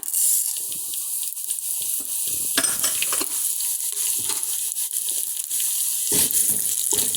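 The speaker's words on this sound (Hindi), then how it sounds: "ऑयल गरम हो गया है। अब मैं इसमें साबित मसाला ऐड करूंगी। लौंग, इलायची, तेज पत्ता, जीरा और धनिया।" Whole spices — cloves, cardamom, bay leaf, cumin and coriander — frying in hot oil for beef shami kabab, a loud continuous crackling sizzle close up, with a few clattering stirs and no talk.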